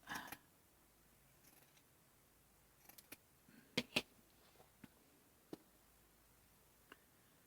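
Scissors snip half-inch strips from an athletic sock in a few sharp, separate cuts, quiet and close with long pauses of near silence between them.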